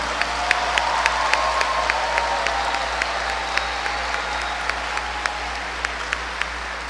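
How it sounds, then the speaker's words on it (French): A large audience at a graduation ceremony applauds steadily for a group of graduates, producing a sustained wash of clapping with a few louder individual claps standing out. "applaudissons-les"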